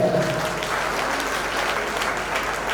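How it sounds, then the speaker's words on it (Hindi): Audience at a welcome ceremony for a Girnar pilgrimage walk bursts into sustained, dense clapping that holds steady and loud throughout, with no pause. "ताली में स्वागत होना चाहिए।"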